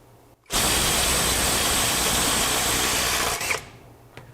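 A Silvel 21V brushless cordless impact wrench spins in full reverse at its 250 foot-pound setting, a loud continuous buzzing whir that starts abruptly and runs steadily for about three seconds before cutting off.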